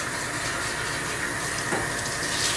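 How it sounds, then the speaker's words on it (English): Hot tap water runs steadily into a sink to rinse glass canning jars before pickling wild thistle, a continuous close splashing rush with no pauses and no voices. "we're just gonna get our tap water as hot as we can and rinse these jars off"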